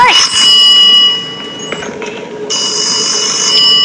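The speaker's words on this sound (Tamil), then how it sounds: "என்ன ப்ரோ இது ஃபோன் வருது ப்ரோ." Ringing phone in a horror video game, a bright electronic bell-like trill sounding in bursts, strong at the start and again near the end, with game ambience between rings.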